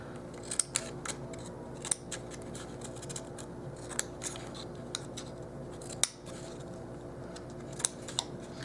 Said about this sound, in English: the reason we cut the notches out is to reduce the bulk